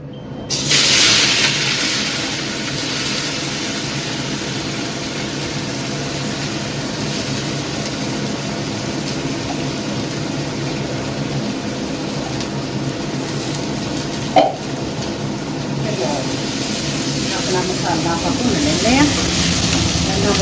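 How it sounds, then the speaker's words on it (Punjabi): Ground ginger, garlic, green chili and tomato masala sizzles in hot oil for malai paneer, a steady loud hiss and crackle throughout with brief clatter near the end. "ਦੇਖੋ ਜੀ ਆਪਾਂ ਮਸਾਲਾ ਆਪਣਾ ਭੁੰਨ ਲਿਆ"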